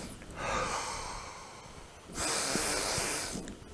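Two long, loud sniffs drawn in close to the nose over an open jar of English mustard, the first tapering off and the second stronger and breathier.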